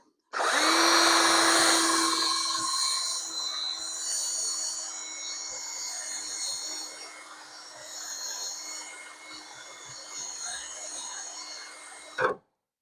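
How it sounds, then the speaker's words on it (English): A power drill whines loudly as it bores out fasteners in the frame rail of a 1971 Dodge Challenger, the pitch steady with slight shifts in load, then stops abruptly. "You're better off drilling them out."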